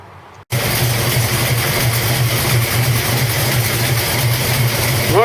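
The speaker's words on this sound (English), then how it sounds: "we're going to give it a start and see what happens" A 1973 Camaro engine fires up abruptly after a gear drive swap, then settles into a loud, steady, rumbling idle close by, running continuously with no talk.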